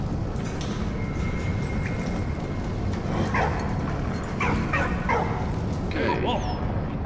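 In the Valiant Hearts video game, a dog barks and whimpers in short yips over a steady, rumbling game background, the calls coming in a small cluster partway through.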